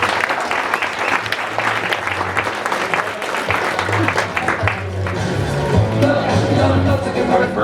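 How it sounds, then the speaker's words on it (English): Loud clapping from a crowd at a sales meeting, sustained and dense, with some voices mixed in as the applause carries on. "Let's give Todd a round of applause."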